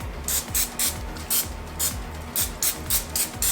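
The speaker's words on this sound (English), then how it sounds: "you know we have to add in some non-stick cooking spray" Non-stick cooking spray misted into a loaf pan in short repeated bursts, about ten quick hissing sprays in a steady rhythm, close and clear with no talk.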